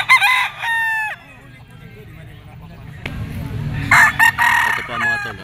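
A Gilmore green-legged bullstag rooster crows loudly at close range, several drawn-out calls with clucks between them, over market chatter and someone talking.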